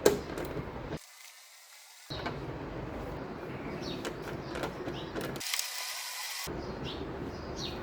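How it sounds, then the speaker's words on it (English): A ratchet with a 10mm socket removes bolts on a Kia Sportage, giving quick clicking bursts with brief pauses between them, close and moderately loud, with no talking. "use a 10mm socket with a ratchet to remove the 2 bolts"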